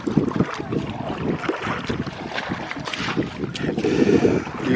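A canoe moving on the sea near Mykonos, with steady wind buffeting the microphone and water sloshing and splashing close by throughout.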